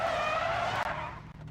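A rally car in the WRC 9 racing game accelerates hard in a training area, its engine note rising loud and steady with a raspy, sustained roar and brief tire scrub, heard alone without talk.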